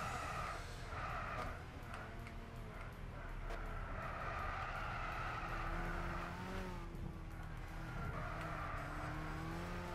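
A race car in Gran Turismo 6 on PS3 revs and accelerates, its engine note rising and shifting in pitch through gear changes, with faint tire squeal, no voices.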